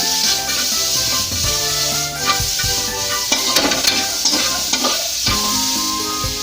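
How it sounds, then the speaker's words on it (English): Onions sizzle steadily in a hot pan as they brown, with scraping, rubbing stirs and occasional clinks of a utensil against the pan breaking through the constant frying hiss. "we're going to make the onions a little bit brown in color"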